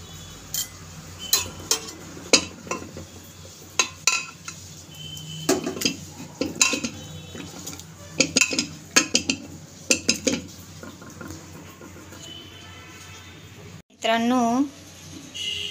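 A pot of boiled vegetable mixture for pav bhaji is mashed with a utensil, giving irregular metallic knocks and clinks spread over several seconds, ending with a short burst of voice.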